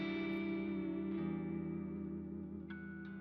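Guitar runs through a Strymon Cloudburst ambient reverb pedal, a sustained chord swelling into a lush, washing reverb tail that slowly fades, with a few faint picked notes near the end and no talking.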